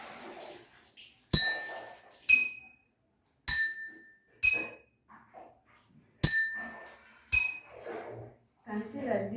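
Drinking glasses filled with different levels of water are struck one at a time, giving about seven sharp, ringing clinks at differing pitches, separated by pauses, with faint talk between the strikes.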